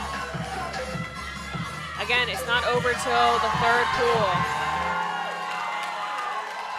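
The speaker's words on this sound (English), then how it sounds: "The crowd is going wild here." Loud crowd at a powerlifting meet cheering and whooping for a 47 kg lifter's 190 kg attempt, swelling into sustained shouts and applause while an announcer talks over it.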